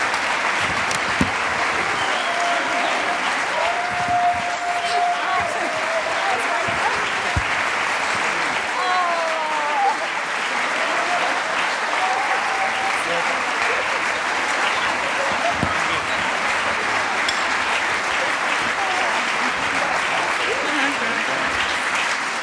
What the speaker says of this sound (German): Nicht aufhören zu klatschen.